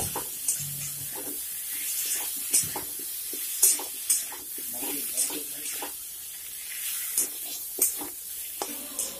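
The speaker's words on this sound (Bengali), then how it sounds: "ছোলা বুটটিকেও আলু আর মিষ্টি কুমড়ার সঙ্গে কষিয়ে নিতে হবে" Boiled chickpeas being stir-fried with potato and sweet pumpkin in a pan for a pumpkin chhokka. Intermittent light scrapes and clicks of a spatula sound over a soft, low sizzle, fairly quiet throughout.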